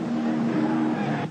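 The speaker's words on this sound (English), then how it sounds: "Peter Brock, then Kevin Bartlett in the 9 V8 Camaro, down across McPhillamy Park" V8 touring race cars, including a Camaro, thunder down the mountain at Bathurst in 1982, a loud sustained engine roar with a steady whine that cuts off abruptly near the end.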